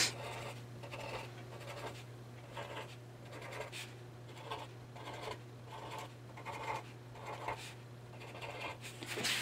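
Handwriting with a craft marker on paper: a series of soft scratchy strokes in short bursts with brief gaps, close and quiet over a steady low hum, without talking.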